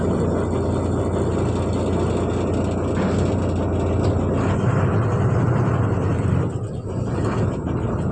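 A truck's engine runs steadily with a deep low rumble as the vehicle is shifted into shade, loud and close throughout with a slight dip near the end.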